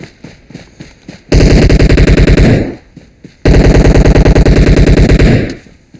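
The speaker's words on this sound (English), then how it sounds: "Oh, shit, I'm getting shot at." Video game gunfire rattles out in two loud sustained automatic bursts of rapid, evenly spaced shots, each lasting over a second, with quieter gaps between them and no talk.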